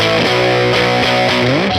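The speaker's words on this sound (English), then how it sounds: "I'm a little bit tired of hearing so much distortion" Distorted electric guitar played through a Universal Audio Woodrow 55 amp, loud and dense with sustained chords shifting every half second or so, no voices.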